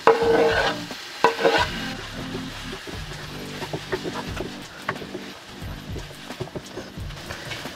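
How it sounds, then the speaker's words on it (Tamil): Prawns and tomato are sautéed in a pan with a constant sizzle, while a spatula scrapes and stirs in quick repeated strokes close by. "இறாலோட சேர்த்து நல்லா வதக்குவோம்."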